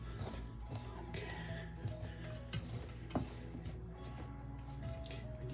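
A chopstick stirring wheat flour with boiling water into a scalded dough, giving soft, wet squishing and scraping strokes against the bowl, quiet and close, with a faint background hiss.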